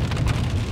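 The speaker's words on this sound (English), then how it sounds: "Although this is a fairly heavy rain." Heavy rain drumming on a car windshield, a dense, loud, continuous hiss and patter with low rumble, heard up close in a short burst with no talking.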